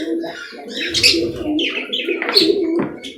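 A budgie and a cockatiel chirp while being bathed in a cage, with bright, repeated tweets and calls rising over steady splashing and rustling. The birds sound close and fairly loud throughout.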